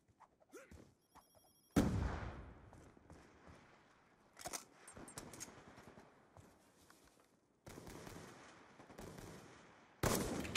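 Automatic weapon fire in Black Ops II Team Deathmatch: repeated bursts of shots with quieter gaps of game ambience in between.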